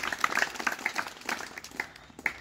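A crowd at the start of a memorial border walk in Gornja Radgona applauds in welcome, scattered claps forming a loose, moderately close ovation.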